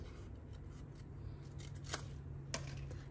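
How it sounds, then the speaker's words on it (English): Two crisp, quiet snips of paper snips cutting around a painted watercolor watermelon slice on paper, each a short sharp cut over a soft, near-silent background. "we'll take our paper snips and cut out our watermelon slice"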